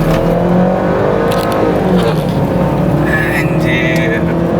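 A car engine roars loudly up close as the vehicle pulls away hard from a standstill, a dense, steady drone with rising revs and a sustained strained note throughout.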